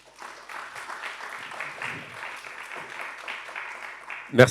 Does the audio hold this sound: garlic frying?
no